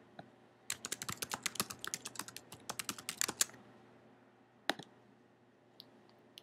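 Close, quiet typing on a computer keyboard: a quick run of about twenty key clicks over three seconds, then a couple of isolated clicks after a pause.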